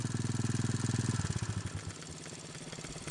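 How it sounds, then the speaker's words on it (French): A motorcycle engine idles close by with a steady, rapid chugging pulse that drops in pitch and loudness partway through as the engine slows and settles, with no speech over it. "Éteins la moto, tu éteins la moto."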